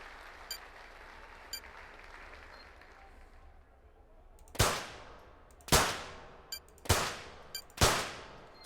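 Rapid-fire pistol shooting in a London 2012 Olympic video game, five sharp, loud shots in quick succession after a quieter stretch with faint clicks, each crack ringing out with a short decay.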